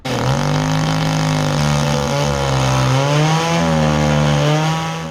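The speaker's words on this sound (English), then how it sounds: "We are now drilling holes into the timber." A power drill whines loudly and continuously, its motor pitch dipping and recovering as it bores holes into timber.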